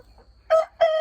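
Cornish cross chickens in a pen give two short, loud calls in quick succession, each a bright clucking burst against near silence.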